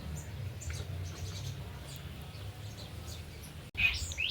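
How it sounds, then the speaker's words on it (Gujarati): Several birds in a tree outside a house on a sunny day give scattered, faint high chirps and tweets over a low rumbling background, with one sharper call near the end. "જોઈ શકો છો મસ્ત મજાના ઘણા બધા પક્ષી આવી ગયા છે."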